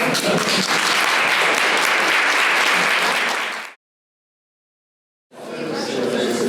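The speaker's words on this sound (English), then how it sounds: "Anyone wants to applaud? Now's the time." A crowd applauds loudly and steadily, the clapping cutting off abruptly partway through, leaving a gap of silence before the applause resumes.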